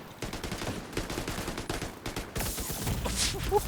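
Checkpoint shock turret firing in The Division 2, rapid continuous bursts of gunfire close by, with a fast rattling rhythm that shifts to a harsher crackle midway.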